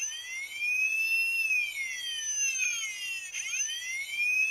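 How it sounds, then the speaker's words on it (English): A Transformers Dark of the Moon Leader Class Sentinel Prime toy fire truck plays an electronic siren that sweeps steadily up and down in a loud, continuous wail, cycling without pause. "Just the regular siren"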